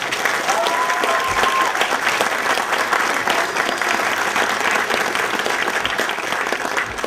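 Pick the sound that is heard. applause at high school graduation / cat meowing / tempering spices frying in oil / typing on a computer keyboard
applause at high school graduation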